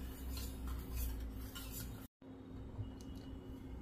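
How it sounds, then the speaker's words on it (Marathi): A spoon stirs citric acid into half a bowl of water to dissolve it, with repeated clinking and scraping against the bowl that stops briefly partway through, then soft clinks continue. "हे सायट्रिक ॲसिड मी अर्ध वाटी पाणी घेतलंय, त्याच्यात विरघळायला ठेवलं आणि असं हलवून हलवून त्याला विरघळायचं"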